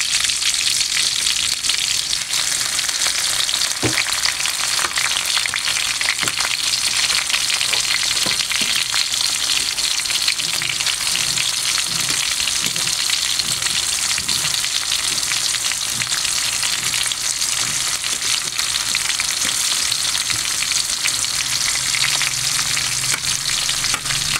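Tomatoes sautéing in a hot pan for burong kanin guisado (Filipino fermented rice dish), giving a loud, steady sizzle and crackle throughout with occasional stirring clinks, no talking.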